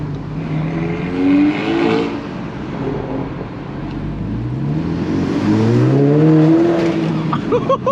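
The 365bhp Edition 35 car's engine drones and revs through Camden Town streets, rising and falling in pitch through repeated accelerations and sounding close and loud, with faint voices mixed in.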